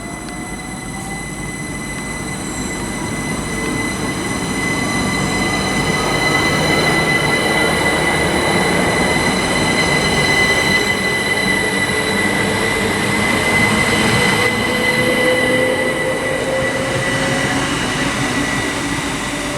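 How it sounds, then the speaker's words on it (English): A Great Western Railway train pulls out of Reading West toward Newbury with a steady, swelling rumble, a high electric whine and faint wheel squeal, close and loud throughout. "departing now is the 1314 Great Western Railway service to Newbury"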